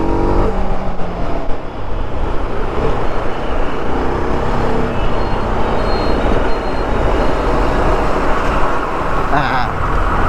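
A 2024 TVS RR310 motorcycle engine pulls in second gear while riding on a dusty road, a continuous rough drone mixed with wind and road noise, under a rider's talk.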